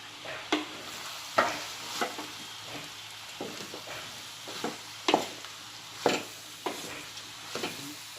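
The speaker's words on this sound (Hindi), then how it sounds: "ये देखिए मैंने तरकारी सब डाली। अब मैं इसे मिक्स करूँगी।" Mixed vegetables and onions, part of a jackfruit bhaji, stirred with a spoon in a pan over low heat: soft sizzling under about a dozen irregular scraping clinks of the spoon against the pan.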